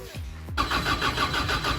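A Toyota JZX engine being prepped for drifting cranks briefly on its first start, then catches and settles into a loud, rough, pulsing idle close by.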